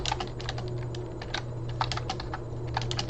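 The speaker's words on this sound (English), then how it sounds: "Let me finish typing this out" Fingers tap a computer keyboard in quick, irregular bursts of clicks, close and fairly quiet, with no voices.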